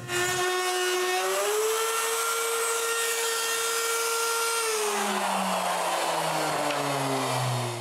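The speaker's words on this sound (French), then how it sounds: "je nettoie le reste avec une bague à copier puis une mèche droite" A router fitted with a copy ring and straight bit cleans out a mortise in wood for a mobile workbench, a steady high-pitched whine that drops in pitch midway as the bit bites, running alone throughout.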